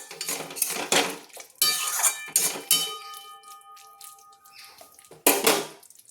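A spoon clinks and scrapes against a pot while ghee and garam masala are mixed into a thick bottle gourd curry, several sharp close knocks with ringing metallic tails and quiet gaps between.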